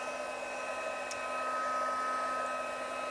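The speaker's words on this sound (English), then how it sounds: "our heat tool, making sure our heat tool is nice and hot, so it will be a little bit noisy" Crafting heat tool blowing hot air, a steady close whooshing hum with a constant tonal whine, running continuously without pause and no voices.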